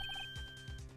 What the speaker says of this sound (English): I heard a phone ring just now. One of those newfangled ring tunes.